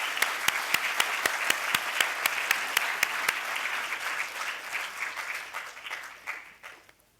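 A graduation ceremony crowd applauds with loud, dense clapping, a few sharp claps standing out, before it gradually thins and fades away.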